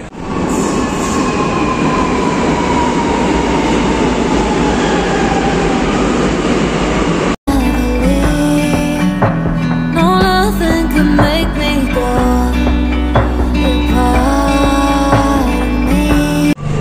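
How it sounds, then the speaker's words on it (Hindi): A Lucknow metro train pulls into a station with a loud, continuous rumble and a rising whine. It cuts sharply into layered tonal sounds for the rest of the stretch, and no one speaks. "मेट्रो का थोड़ा वेट कर रहे हैं, मेट्रो आती है फिर निकलते हैं बढ़िया से"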